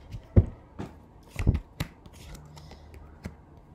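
Oracle cards are shuffled by hand in a few quick riffles and taps, close and crisp, with soft handling noise between bursts and no voices.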